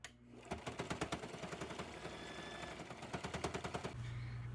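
A sewing machine stitches a strap onto a blue ruffled dress, a close, loud run of rapid needle strokes in two bursts with a brief slower pause between them.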